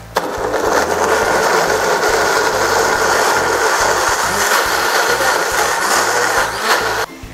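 An electric kitchen blender grinds spice paste with cooking oil for an Indonesian fish-head curry, a steady loud whirring roar that runs unbroken for about seven seconds before cutting off abruptly.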